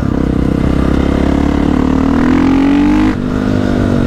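Modified supermoto motorcycle with a shortened FMF-type exhaust line and remapped engine, revving loudly and close, a raw rising blat that climbs in pitch before abruptly dropping back to a rough idle.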